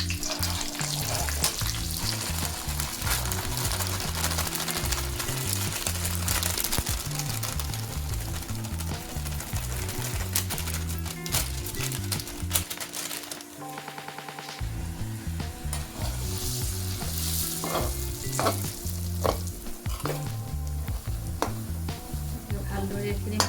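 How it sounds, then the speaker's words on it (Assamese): Half a kilo of besan, gram flour, fries in hot oil for barfi, a continuous close sizzle with steady scraping of the stirring spoon, briefly easing before the frying noise swells again. "এতিয়া মই দি দিছোঁ গৰম হ'ল তেলখিনি"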